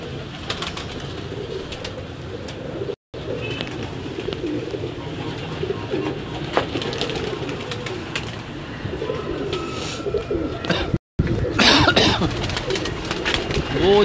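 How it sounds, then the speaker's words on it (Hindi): Tippler pigeons coo softly on a home rooftop, steady low murmuring across the whole stretch, with brief breaks and occasional faint chirps over light outdoor background. "ये जी ट्रिपलर है हमारे पास कुछ कबूतर"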